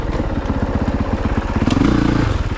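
A Honda CRF450RX dirt bike ridden on woods trails, its single-cylinder engine thumping in a rapid pulsing rhythm, then revving up briefly, loud and close.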